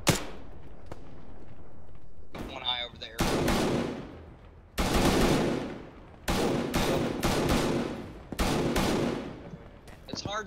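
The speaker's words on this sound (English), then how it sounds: "They're firing back." Enemy gunfire in the military video game ARMA 3, with repeated loud bursts of automatic fire crackling in several clusters, some sharp and near, others duller, with a brief whistling sweep between volleys.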